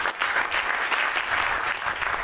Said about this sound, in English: Let's clap our hands to Jesus Christ.